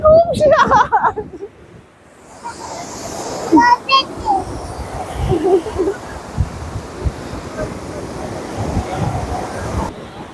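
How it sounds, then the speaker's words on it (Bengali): Sea waves wash in at RK Beach in Visakhapatnam as a low, rough surge under wind noise, while people talk close to the microphone over the wash. "সমুদ্রের জলের সাথে না পাথর উঠে উঠে আসছে"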